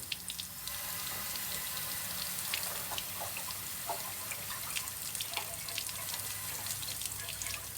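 Red engine coolant pours steadily out of a vehicle's cooling system, a continuous splashing trickle of liquid with small drips layered on top, close and moderately loud.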